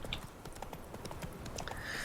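Horse hooves clip-clop at a steady trot in The Witcher 3: Wild Hunt, quiet rhythmic hoofbeats under faint ambient game sound.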